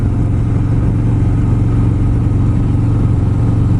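A Harley-Davidson Road Glide motorcycle engine runs steadily in third gear, a loud, close, even low rumble with no talking.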